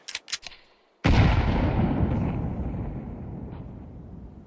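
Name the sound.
grenade explosion in the video game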